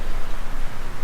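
Steady, dense hiss of rain pouring down in Melbourne, loud and close, with no voices over it.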